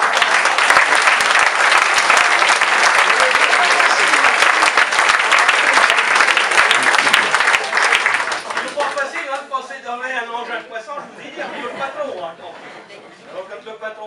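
Loud, dense applause from a village audience at a patois theatre show, sustained for about eight seconds before thinning into scattered claps as a voice starts speaking over it.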